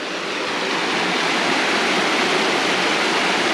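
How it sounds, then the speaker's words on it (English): Waterfall in Northern California, a steady broadband roar of falling water that stays constant and fairly loud throughout, with no voices. "Let's see if I can get a better look at that waterfall here."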